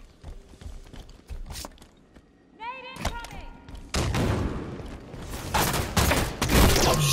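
Halo 5 beta multiplayer combat: scattered weapon shots and a whooshing effect, then a grenade blast around the middle followed by sustained loud gunfire and explosions that build toward the end.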